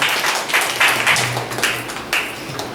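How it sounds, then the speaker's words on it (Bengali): Audience applause at a stage event as the next speaker is invited up, a short burst of scattered clapping with uneven rhythm, moderately loud and fairly close. "একবার জোরে হাততালি হোক"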